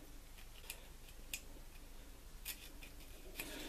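A knife cuts a couple of small hinge slots into a mini F-22 Raptor model plane, heard as faint, sparse clicks and snips spread over a quiet, hissy background.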